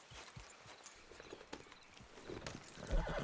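Hooves clop at a steady walking pace, fairly close, with faint Red Dead Redemption 2 Online game ambience and a low thump near the end.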